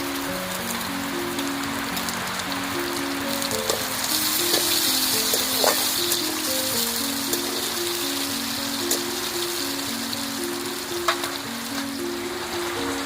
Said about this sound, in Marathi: आता टोमॅटो टाकून घेते.